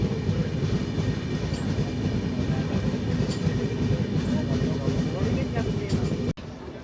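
Jan Sewa Express, Amritsar–Purnia Court train, rolling into a station platform in Haryana, a steady loud rumble of wheels and carriages with faint rhythmic clatter, voices murmuring underneath, ending in an abrupt cut.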